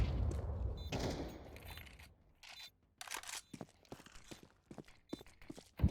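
Gunfire in a Counter-Strike match on the Ancient map, a scatter of sharp rifle shots and short bursts at irregular intervals, some close and loud, others fainter, with footsteps between.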